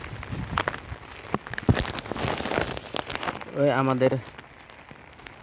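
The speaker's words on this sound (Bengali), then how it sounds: "এই বৃষ্টির মধ্যে ছাতিতে বৃষ্টি মানবো না" Rain patters on an umbrella out in an open field, a close crackling patter heard throughout, with someone talking briefly partway through.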